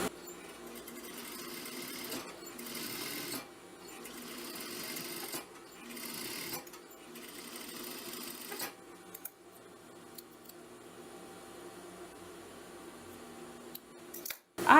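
Sewing machine stitching the front crotch seam of clochard trousers, fabric right sides together, in several close whirring runs separated by brief pauses, fading to quieter stitching and ending with a sharp click.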